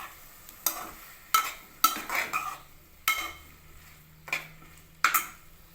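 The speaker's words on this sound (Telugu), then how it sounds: "క్యాప్సికమ్ వేసి బాగా మిక్స్ చేసుకుందామండి." Capsicum fries in a pan for a tomato curry while a spoon stirs it, giving about eight sharp scraping clinks against the metal in an irregular rhythm over a faint, low sizzle.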